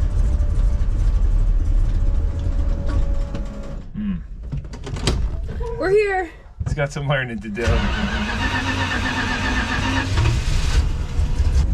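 A 1965 Plymouth Fury wagon engine, fitted with Sniper 2 EFI fuel injection, starts and settles into a steady idle, with people talking briefly in the middle over the running motor.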